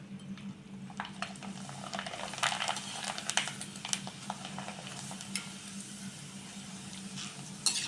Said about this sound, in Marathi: एक कुरवडी मी तुम्हाला तळून दाखवते.